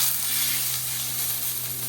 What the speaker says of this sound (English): Nice sear on that steak.